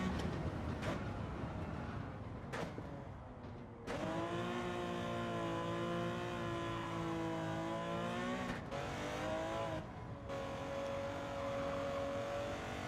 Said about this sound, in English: I touch the water, and I'm off